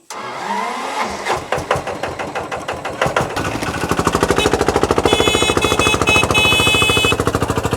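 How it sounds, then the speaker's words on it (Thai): A farm tractor's diesel engine starts with uneven chugging, then settles into a loud, steady, fast rattle running close by. "เอารถไถขึ้นไปก่อน"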